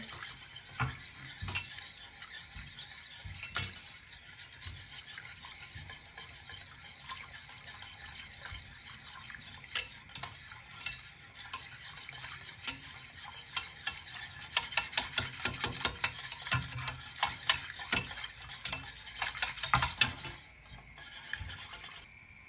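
A pasta sauce is stirred to keep lumps from forming, a long stretch of soft, rhythmic scraping and gentle bubbling that grows busier and louder toward the end before easing off.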